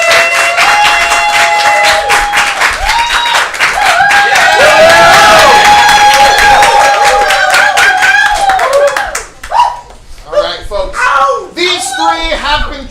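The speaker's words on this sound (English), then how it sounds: "Give them a big round of applause as they come in." A large audience claps and cheers loudly and steadily at a live improv comedy show in St. Petersburg, the applause sustained for several seconds before fading into scattered claps as a voice begins talking.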